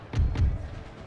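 Heavy artillery in an Empire: Total War battle: two muffled, low booms in quick succession, about a fifth of a second apart, followed by a faint rumbling tail.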